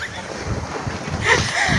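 Stormy sea waves breaking near an island, a loud close surging wash with rough wind-buffeted rumble that swells toward the end.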